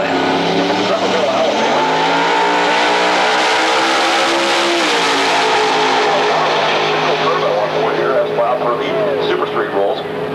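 Drag racing car roaring down the strip at Atlanta Dragway in Commerce, Georgia, a loud sustained engine wail rising and shifting pitch, with a commentator talking over it.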